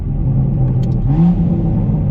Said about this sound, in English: The second gear downshift is just awesome.